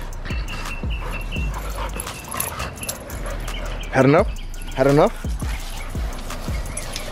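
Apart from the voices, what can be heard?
dogs playing and yipping in a back yard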